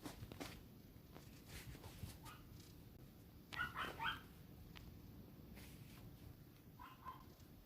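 Dogs somewhere off in the distance bark and whimper, restless to be let out, with a few sharp yips and whines rising over steady room noise.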